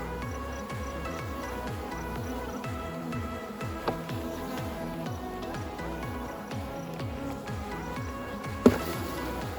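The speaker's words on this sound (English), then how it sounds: "Most of these bees that you see here are the worker bees." A dense, continuous hum of many honey bees buzzing close by around a hive frame, a low droning swarm with a faint knock near the end.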